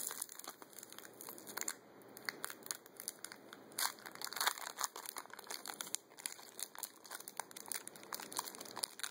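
Crinkly plastic wrapper of a Pokemon EX Delta Species card booster pack being torn open and crumpled, with quiet, close, continuous crackling and rustling and no talking.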